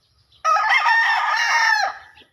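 A single rooster crows once, loud and close, a strong harmonic call lasting about a second and a half against an otherwise quiet backyard coop.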